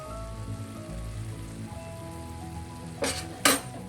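Prawn curry with milk bubbling in a pan, a steady soft sizzle and simmer, then two brief louder clatters near the end.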